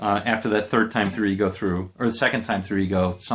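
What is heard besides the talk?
No everyday noises stand out.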